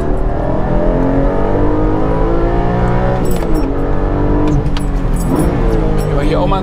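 A Porsche Cayman GTS 4.0 six-cylinder boxer engine on a race track, loud and close, with harmonics rising and falling as it is revved hard and shifted down through the gears, engine droning steadily throughout with speech beneath.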